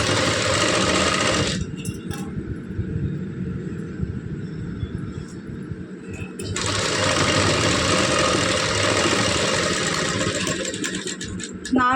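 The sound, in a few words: sewing machine stitching thread piping with normal presser foot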